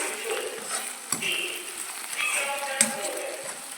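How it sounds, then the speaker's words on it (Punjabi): Tadka for dal sizzling in a hot pan, a steady frying hiss with a couple of sharp utensil knocks against the pan, close by. "ਹੁਣ ਆਪਾਂ ਲਾਉਂਦੇ ਆ ਜੀ ਤੜਕਾ"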